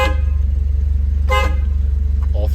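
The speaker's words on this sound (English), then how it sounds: "you heard the horn, but I'll show you all three" The horn of a 1973 Alfa Romeo Spider honks in two short, loud toots over the steady low rumble of the idling engine.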